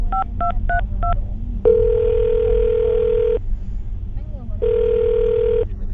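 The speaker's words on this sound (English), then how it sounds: "I'm going to dial his phone number right now and see if we can get him on the phone" A telephone dials a number: four quick touch-tone beeps come first, then two long ringback tones separated by a pause, all over a low background murmur.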